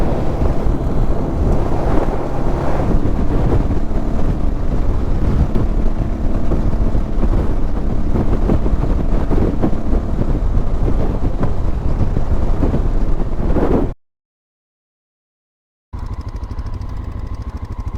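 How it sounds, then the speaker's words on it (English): Steady wind on flat open land roars and buffets the microphone with loud low rumbling gusts, cutting out briefly near the end before resuming. "think it's always windy in this area"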